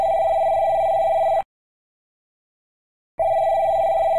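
Telephone ringing in an animated cartoon: two loud electronic bell rings separated by a silent gap, with no talking.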